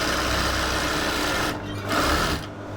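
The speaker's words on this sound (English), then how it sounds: "You can come at most 1/2 inch after that point and back stitch." A sewing machine back-stitches a skirt seam with a close, fast, continuous whirring stitch, briefly pausing twice near the end before starting again; no one speaks.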